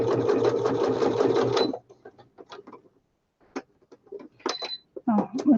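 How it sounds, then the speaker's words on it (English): Sewing machine stitching down the edge of a handmade journal in a quick, loud run of rapid needle strokes, then stopping; soft clicks and handling noises follow in the quiet. "I'm going to sew that down and around."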